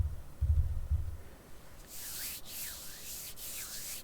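ASMR finger pad drumming: a few soft, muffled low thumps near the start, followed by faint, close rubbing and scratchy brushing textures, very quiet overall with no talking.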